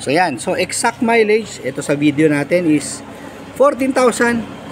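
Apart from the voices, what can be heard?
No everyday noises stand out.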